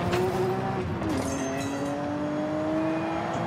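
A race car in Forza Horizon 5 skidding sideways through a curve after losing traction, with a steady engine drone and a long tire squeal that sweeps in pitch, loud and close.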